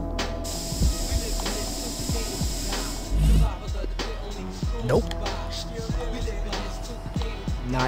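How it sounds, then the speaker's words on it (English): A spray paint can hisses in bursts in the graffiti game Marc Ecko's Getting Up, over a busy backdrop of game music and effects, with someone talking at times. "Come on, let me just spray."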